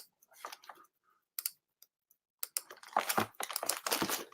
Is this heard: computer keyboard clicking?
yes